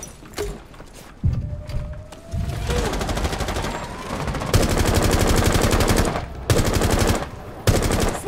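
Rapid automatic gunfire in the tactical shooter game Rainbow Six Siege comes in several loud, sharp bursts that grow longer and denser toward the end, separated by brief gaps and quieter in-game sounds.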